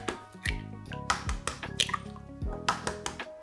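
A dozen eggs poured into a big baking dish for a breakfast bake, wet plopping and glugging splashes in a quick irregular series, close and moderately loud, with no talking.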